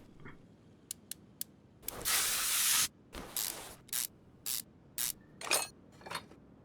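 A round air filter comes off in Car Mechanic Simulator 2021. Quiet mechanical clicks and ticks surround a longer airy hiss, followed by several short scraping clunks, all close and fairly soft.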